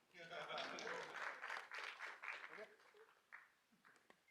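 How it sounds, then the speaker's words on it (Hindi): Audience applause at a film trailer launch event, a broad wash of clapping that swells for about three seconds under overlapping speech, then thins out into a few scattered claps. "ताली बजाओ।"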